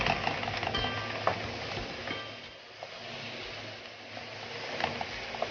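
Minced meat and garlic sizzle and fry in a pan while being stirred, a steady moderate crackle with occasional scraping clicks of the spoon against the pan and no talking.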